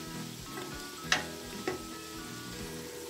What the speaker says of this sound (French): Je remue et je vais laisser cuire.